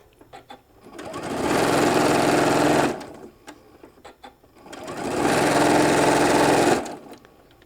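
Two steady, close bursts of a sewing machine stitching fabric bag pieces together for a shoulder bag, each lasting about two seconds, with clicks and fabric handling between and around them.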